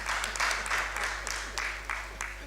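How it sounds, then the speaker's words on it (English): Audience applause in a hall, a steady broadband patter of many hands clapping throughout, with a constant low hum underneath and some talk mixed in. "I think you should clap for us"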